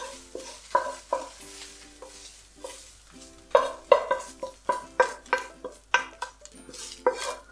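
Fried minced meat is stirred and pushed across a pan, producing a series of sharp metallic scrapes and clanks of utensil on pan. The strokes come in an uneven rhythm over a faint sizzle, with no talking.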